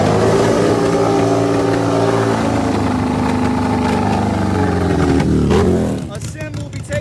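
Harley-Davidson bagger drag bike at a Steel City drag race, a loud steady engine roar that rises in pitch as it passes down the track, then fades quickly, with talk underneath.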